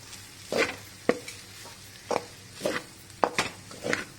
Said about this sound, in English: And we continuously stir all these ingredients together